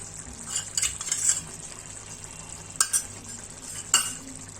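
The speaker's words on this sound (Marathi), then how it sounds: "आता हे सगळं व्यवस्थित एकत्र करून घेऊया।" A spoon stirring pav bhaji masala, turmeric and salt into a frying pan, with soft scraping, light sizzle and a few sharp metallic clinks, close and quiet.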